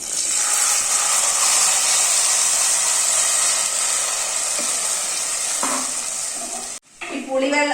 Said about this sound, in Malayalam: നമുക്ക് നേരത്തെ എടുത്തു വെച്ചിട്ടുള്ള പുളിവെള്ളം ഉണ്ടല്ലോ അത് ഒഴിച്ചു കൊടുക്കാം